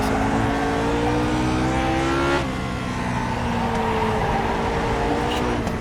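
Lotus 49 Grand Prix car in iRacing at Suzuka, its engine note held loud and steady in third gear, rising in pitch, then dipping sharply midway as the throttle lifts and settling back into a continuous drone.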